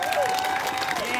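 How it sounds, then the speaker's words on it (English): An audience at a police officers federation rally in Minneapolis applauds in a brief burst of clapping, moderately loud and dense, with faint tones ringing underneath. "Give her a round of applause, ladies and gentlemen."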